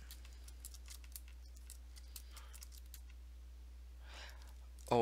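Fingers type on a computer keyboard at a desk, giving faint, quick clicks in short, uneven bursts over a quiet room background, with a louder knock at the very end.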